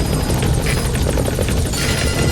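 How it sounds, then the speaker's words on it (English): A support helicopter arrives in the video game Metal Gear Solid 5, its rotor chopping loudly and steadily up close with a rhythmic pulsing beat, no talk over it. "Support helicopter has I have arrived. arrived at marker."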